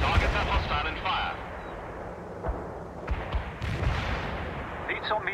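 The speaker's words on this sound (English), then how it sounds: "We're ready with the artillery." Artillery fire in the video game World in Conflict: heavy booms and sharp blasts repeat throughout, mixed with battlefield rumble, while voices talk over the gunfire.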